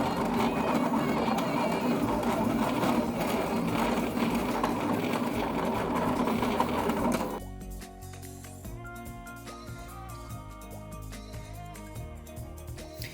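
Silhouette cutting machine working on stamped paper, a dense buzzing mechanical whir that drops midway to quieter, intermittent stepping and clicking motor sounds as the blade moves.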